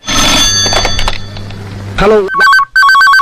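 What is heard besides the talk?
phone ringing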